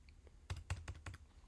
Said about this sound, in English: You can also search for it by just typing.